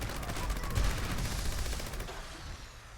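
Continuous rapid weapon fire from a gun in Fallout 76, a dense roaring burst of shots that stays loud and steady before easing slightly at the end.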